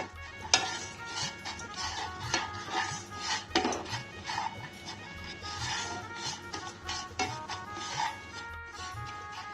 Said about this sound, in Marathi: आता ह्यात आपण पाव कप वरी तांदूळ घालू आणि व्यवस्थित भाजून घेऊ